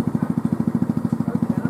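Homemade helicopter built from scrap parts running on one motorcycle engine and one car engine, giving a steady, rapid rhythmic chugging pulse with clattering mechanical texture, close and fairly loud throughout.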